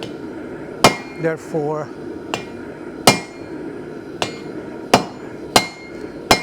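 A 4-pound hammer strikes a thick piece of hot steel on the corner of an anvil while a speed handle for a milling machine vise is forged, giving sharp ringing blows at an irregular pace, with someone speaking briefly between strikes.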